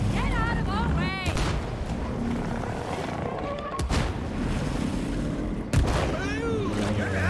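Cannon fire in the co-op video game It Takes Two booms through busy game action, several sharp blasts standing out among whooshing effects, with players talking over the scene.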